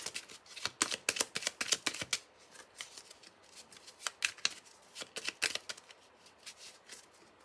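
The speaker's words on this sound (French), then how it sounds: "on rebat un petit peu les cartes pour ne pas retomber sur la coupe" Tarot cards are shuffled by hand in quick bursts of crisp, riffling flicks, two clusters of rapid snaps with short pauses between them, close and fairly quiet, with no voices.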